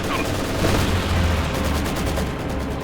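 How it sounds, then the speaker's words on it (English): An aircraft strafing run in Company of Heroes 2, a dense, continuous roar of gunfire and impacts filling a few seconds, loud and close, with a voice speaking over it. "And another strafing run."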